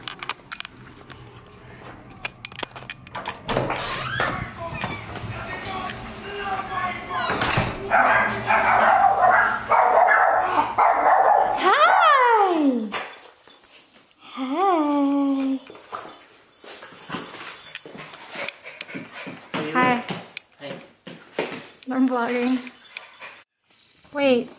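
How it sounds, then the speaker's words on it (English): Dogs greet their owner arriving home with excited barks, yelps and high whimpers that rise and fall in bursts over about twenty seconds, close and loud, mixed with jangling keys and a person talking. "my dogs are gonna greet me"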